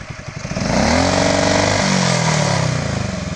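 An old Delta moped engine, left without wheels in a garage for about 15 years, idles with a rapid putter and then revs up into a loud, sustained buzzing drone close by.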